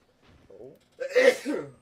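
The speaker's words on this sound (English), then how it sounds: "Can't help sneezing." A single sharp sneeze follows a short intake of breath, close and fairly loud, during a horror game session; a voice speaks briefly nearby.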